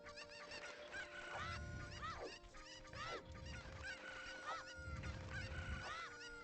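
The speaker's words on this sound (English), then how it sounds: "Nope, don't target a chicken." Cuccos clucking and squawking in Zelda: Ocarina of Time, repeated loud game fowl calls in bursts over steady game background sound, with no talking.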